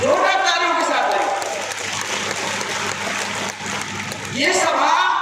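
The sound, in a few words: applause at political rally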